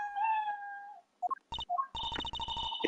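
Cat meowing in the video game Apollo Justice: a drawn-out meow followed by short chirpy mews, then a burst of quick, loud, repeated game tones.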